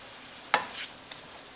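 Shrimp cooking in a pan get a single quick scrape of the spoon, then a fainter second stir over a soft background sizzle.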